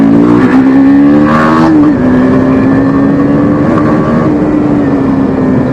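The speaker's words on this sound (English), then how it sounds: "As you guys can see, this bike is a beast when it comes to acceleration." KTM RC 390 motorcycle accelerating hard, a loud, close engine whine rising through the revs, dipping at a gear change and climbing again as a steady high-pitched drone.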